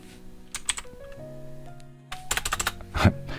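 Quick bursts of keystrokes on a computer keyboard as a command is entered, clustered clicks near the start and a denser run toward the end over a quiet steady hum.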